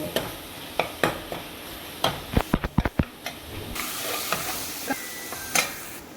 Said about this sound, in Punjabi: ਤੜਕਾ ਆਪਣਾ ਭੁੱਜ ਚੁੱਕਾ ਹੈ